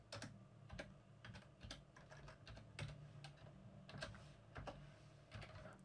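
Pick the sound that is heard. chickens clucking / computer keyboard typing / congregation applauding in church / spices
computer keyboard typing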